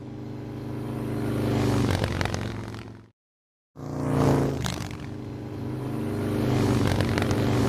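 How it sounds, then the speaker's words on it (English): Motorcycles and cars rushing past on a road, engines swelling and fading as each vehicle passes close by, with a brief total silence midway before traffic noise resumes. "count the number of motorcycles that travel down this road"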